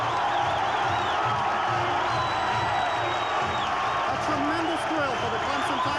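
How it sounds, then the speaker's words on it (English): A large stadium crowd cheers and roars at a Virginia Tech versus Clemson football game as the teams take the field for the opener. The crowd noise is steady and dense, with a commentator talking over it. "Listen to this crowd."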